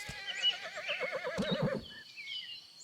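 Horse in the video game Horse Tales: Emerald Valley Ranch, a single loud, close, quavering whinny lasting about two seconds, with light hoof sounds under it, fading into quiet game ambience.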